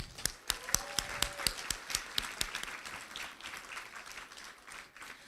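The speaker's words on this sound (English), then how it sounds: "Let's give a round of applause for everyone here at KDI School who made our time here fantastic." A round of applause at a university commencement ceremony, sharp individual claps from a smallish crowd that start crisp and gradually thin out, moderately quiet, with a brief whistle-like tone early on.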